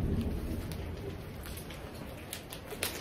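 Steady rain on a surface during a thunderstorm, a continuous hiss with faint low rumbles of thunder underneath, no voices.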